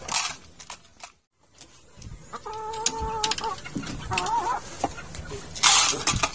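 Chickens cluck in their muddy pen, with several close, distinct clucks and calls in short bursts, a brief silent gap near the start and rustling around them.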